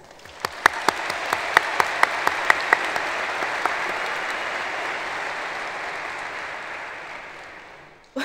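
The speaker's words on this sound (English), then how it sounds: "Let's give them a round of applause." A graduation ceremony crowd at West Anchorage High School applauds, starting with a few sharp individual claps that swell into sustained, even clapping before fading out near the end.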